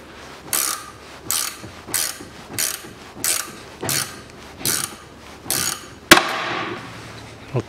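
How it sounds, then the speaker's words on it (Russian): Repeated sharp mechanical clicks from the worn tie rod end on a 1992 Volvo 740 2.3 arrive in an even rhythm about every 0.7 seconds, close and clear, ending with one louder snapping clack. "Вот такой вот щелчок."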